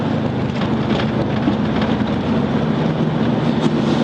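Rain pours steadily onto a truck windshield, a dense, continuous hiss and patter with low rumbling underneath, loud and close throughout.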